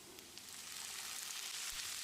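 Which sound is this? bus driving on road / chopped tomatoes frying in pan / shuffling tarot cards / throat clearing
chopped tomatoes frying in pan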